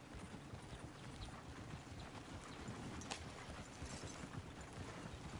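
Steady clip-clop of horse hooves in a PS4 video game over a constant low rumble, quiet and continuous with no voices.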